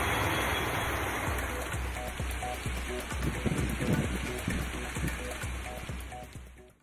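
Steady rain falls in Tamil Nadu, a dense, loud hiss of drops on surfaces, with scattered heavier patters, continuous throughout.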